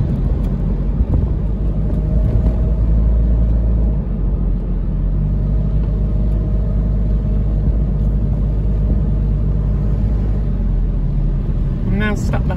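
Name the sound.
classic Mercedes SLK car driving on road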